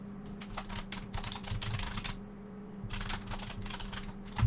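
Someone types on a computer keyboard to edit slide text, with quick clicking keystrokes in two close bursts and a brief pause between them, all close-up and fairly quiet.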